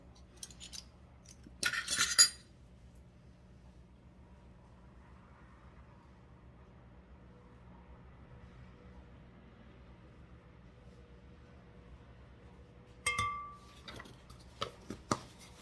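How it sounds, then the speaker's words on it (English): Metal measuring spoons clink and rattle in two brief bursts of rummaging in a home kitchen, separated by a long quiet stretch, close and fairly faint. "Just gonna find my measuring spoons here."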